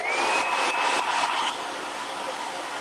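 Steady, airy whooshing of a blow dryer running close by, with a faint whine on top, easing slightly lower partway through.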